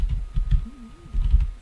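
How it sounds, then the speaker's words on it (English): Typing a web search on a computer keyboard, a short burst of soft, close keystrokes with a brief pause in the middle. "Let's type Bootstrap"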